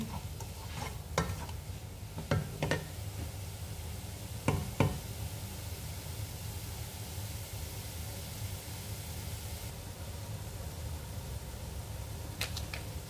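Coriander leaves sauté in a hot pan, a steady hiss of sizzling with a few sharp knocks and scrapes of a spoon against the pan, close by and with no talking.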